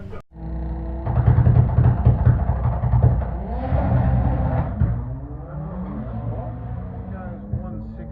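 A front-wheel-drive Honda Civic drag racing at Santa Pod. Its loud, droning engine note swells and strains through a pass under steady commentary.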